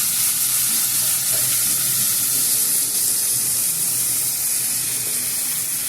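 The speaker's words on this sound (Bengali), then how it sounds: "এবার আমি ভেজে রাখা মাছগুলোকে এর মধ্যে দিয়ে দেবো" Fried bata fish slipped into hot oil and spices in a pan, giving a loud, steady sizzle that fills the whole stretch without any voices.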